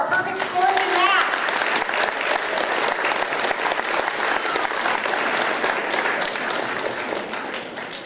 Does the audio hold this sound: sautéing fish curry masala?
no